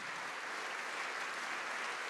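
A church congregation applauds continuously, a dense wash of clapping heard from some distance, steady throughout.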